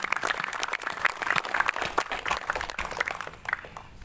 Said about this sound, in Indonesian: saya memohon dengan seikhlas-ikhlasnya untuk kita beri aplaus DPW Kapten Nusa Tenggara Timur